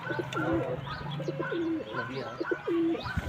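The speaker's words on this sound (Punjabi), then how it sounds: "ਜਾਲ 'ਚ ਵੀ ਕਬੂਤਰ ਪਾਏ ਹੋਏ ਆ" Pigeons coo repeatedly in soft, low rolling phrases from inside a net enclosure, with a few chirps from other birds mixed in and faint background noise.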